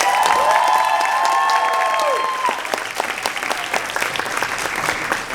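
Audience applause for pageant contestants rises under a brief tonal ring at the start, then continues as a full room of clapping with light cheering mixed in, steady to the end.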